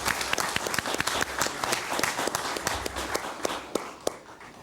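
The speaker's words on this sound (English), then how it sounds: "One more round of applause for Judge Bruner and Ms." An audience at a school board meeting gives sustained applause, steady dense clapping with a few louder individual claps standing out, fading slightly at the end.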